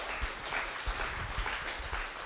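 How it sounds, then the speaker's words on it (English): Audience applause after a blindfolded tasting game, a steady wash of clapping at moderate level with a few louder claps standing out, no talk over it. "Everybody give him a round of applause."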